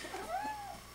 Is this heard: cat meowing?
yes